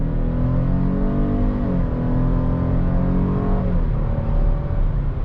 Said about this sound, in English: Try giving it a little gas here.